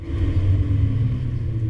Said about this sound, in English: the car engine is switched off and we can just hear it winding down